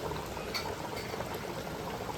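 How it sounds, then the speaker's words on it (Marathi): A pot of liquid simmering in a home kitchen gives off a steady, soft bubbling and gurgling, faint and continuous with no voices over it. "मस्त उकळ आलाय"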